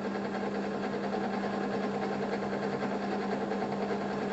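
A steady mechanical hum from a running drill motor, constant and fairly loud throughout with a strong low tonal drone and no pauses.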